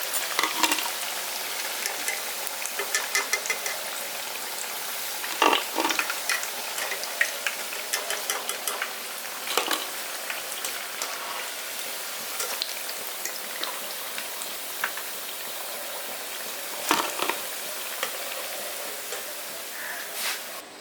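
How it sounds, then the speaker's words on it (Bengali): Maggi noodle pakoras sizzle in hot oil with a steady close crackle, broken by occasional louder pops and stirring scrapes. "বাকি যেটা পড়ে আছে সেটা আবার এরকমভাবে ভেজে নিচ্ছি।"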